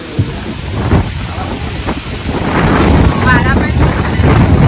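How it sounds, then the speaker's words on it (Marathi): Heavy rain and gusting wind roar as a loud, continuous rush buffeting the microphone, with voices talking briefly underneath. "जोरात पाऊस आलाय."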